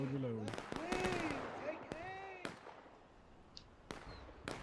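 Infantry musket volley in a historical war video game, with scattered sharp cracks and pops ringing out after a shouted command, rather faint, with voices heard over them.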